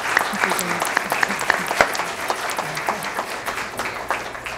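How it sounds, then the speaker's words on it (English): An audience at a Larimer County offices election forum applauds the four candidates, with sharp individual claps standing out over a steady crowd clapping, while a voice speaks briefly beneath. "give all of our 4 candidates a big round of applause"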